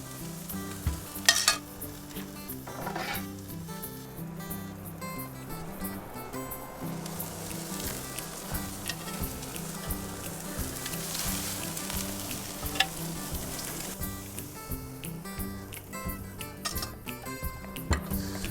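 A ribeye steak sizzles steadily on a hot grill, a close, continuous crackling hiss with faint ticking and scattered sharper pops, and nobody talking.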